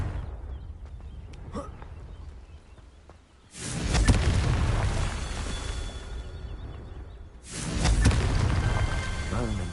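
Confringo blasting spell explosions in a wizarding video game: two big booming bursts several seconds apart, each rumbling on after the hit, with quieter game sounds and voices between them.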